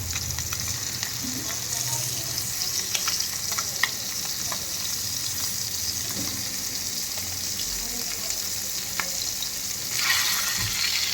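Fish frying on a tava with a steady, close, crackling sizzle, punctuated by occasional spatula clicks and a brief louder burst near the end.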